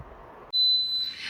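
An Instant Pot pressure cooker signals the end of cooking with a single sustained, high-pitched electronic beep. It cuts in sharply over a quiet room and is close and clear.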